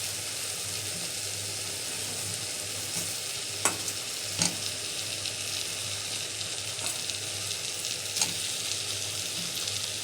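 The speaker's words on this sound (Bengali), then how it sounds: "ভালো করে কষানো হয়ে গেছে মশলাটা, এবার আলুগুলো ছেড়ে দেব।" Potatoes frying in a spice masala for egg potato curry, stirred with a steady soft sizzle and occasional sharp spoon taps against the pan, fairly quiet and close.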